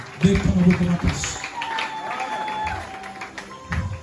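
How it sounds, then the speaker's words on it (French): A congregation at a Sunday church service claps, the patter running beneath a voice that speaks at the start and again near the end. "Applaudissez encore très fort"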